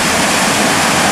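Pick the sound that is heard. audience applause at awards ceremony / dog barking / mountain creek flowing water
mountain creek flowing water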